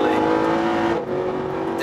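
Mercedes SLS AMG GT road car at speed on the Nürburgring, its engine a steady loud droning tone that dips briefly on a gear change before resuming, with a voice talking over it.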